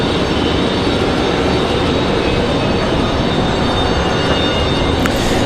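An E190 jet aircraft arriving at Raleigh-Durham International, a loud, steady jet roar filling the short stretch without pause, with no voices.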